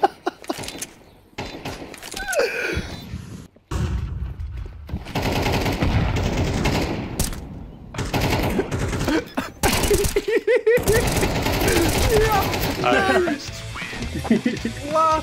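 Rapid automatic gunfire in the video game Counter-Strike 2, loud bursts and single shots crackling across the scene, mixed with excited talk from players over the shooting.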